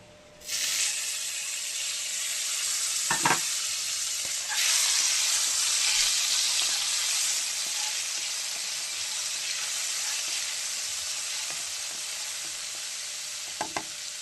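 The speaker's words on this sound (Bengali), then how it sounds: "ইলিশ মাছের তেলটা আমি এখন তেলের উপর দিয়ে দেবো" Hilsa fish oil hits hot oil in a pan and erupts into a loud, sustained sizzle that holds steady, with a few soft clicks of a utensil.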